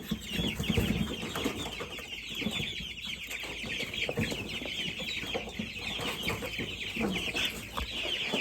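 Hungry meat-bird chickens cluck steadily in a busy group, soft overlapping calls and rustling close by with no talking.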